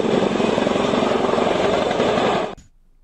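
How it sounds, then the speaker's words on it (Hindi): Air Force Chinook twin-rotor helicopter at an airfield at night, a loud steady rotor thump and turbine roar filling the air close by before cutting off abruptly near the end. "वायुसेना रात के समय अपने चिनूक हेलीकॉप्टर की लैंडिंग और टेक ऑफ का अभ्यास कर रही है।"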